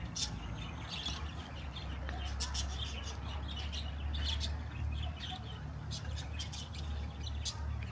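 Repeated short bird chirps and calls of an unidentified species sound over a steady low outdoor hum while walking through Stafford, England, in summer.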